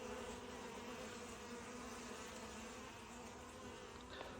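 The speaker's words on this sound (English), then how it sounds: "Nice calm bees" Honeybees drone in a dense, continuous buzz around a hive, steady and close throughout, with no voices.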